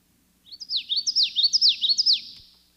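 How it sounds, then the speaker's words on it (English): A small yellow wetland bird with a black mask, the common yellowthroat, sings a clear, close, rapidly repeated witchety phrase. Bright, rolling three-note groups run together for about two seconds. "A little yellow bird of wet places with a raccoon-like black mask. The bird books say it sings witchety witchety."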